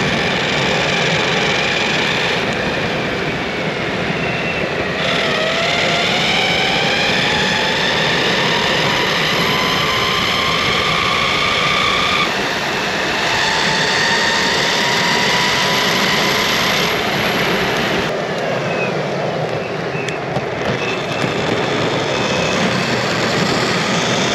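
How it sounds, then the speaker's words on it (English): A Flex Pro belt-drive electric skateboard runs with a steady high motor whine whose pitch climbs and falls as it speeds up, all under constant loud wind and road rumble. "I don't see the belt motor whine as a disadvantage. I love it."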